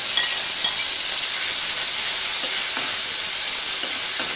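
Garlic and chili paste fries with mustard paste in a pan, producing a loud, dense, unbroken sizzling hiss close by, with faint stirring ticks and no voices.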